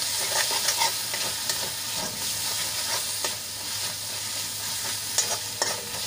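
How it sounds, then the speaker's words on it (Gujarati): Masala sautéing with brinjal and salt for a Kathiyawadi thali, a continuous sizzle under repeated scraping stir strokes, close and moderately loud with a few sharper spoon clicks. "મસાલાને આપણે અડધી મિનિટ માટે સાંતળી લઈશું"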